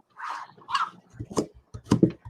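A pet dog named Tiana, close by in a kitchen, letting out a few whiny yips and short barks in quick bursts, with gruffer low sounds mixed in.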